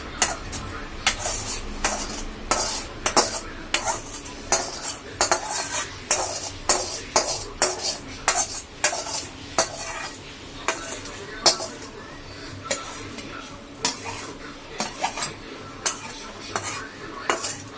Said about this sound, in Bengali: এবার এটাকে ঢেলে দেবো, ঢেলে দিলেই হয়ে যাবে।